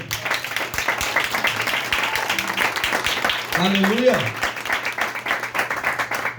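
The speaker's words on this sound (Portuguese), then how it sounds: "Aplauda o Senhor." A church congregation applauding during a worship service, steady clapping throughout with voices and a singing or shouting voice rising over it midway.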